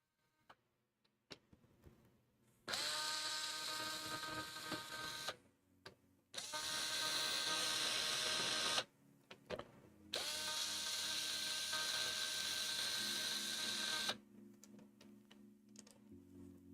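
Voron V2.4 3D printer running motion moves while the carriage is removed, with three long loud stretches of steady mechanical whirring and buzzing separated by brief pauses and small clicks, heard up close and alone.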